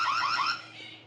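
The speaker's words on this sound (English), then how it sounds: "The removal alarm sounds off continuously until you turn off the" The removal alarm on an Annke Whiffle video doorbell sounds after the camera is taken off its mount, giving a loud warbling electronic tone that wavers up and down, then fades a little.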